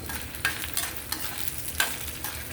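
Coriander seeds and cumin fry in a pan for a coconut tomato chutney: a steady close sizzle with several sharp scraping stirs of a spoon at irregular moments, and no voices.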